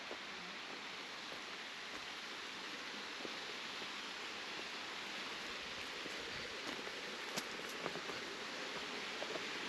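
A waterfall fed by a cold mountain stream off Table Mountain, heard as a steady broadband rush of falling water, close and even throughout with no talk.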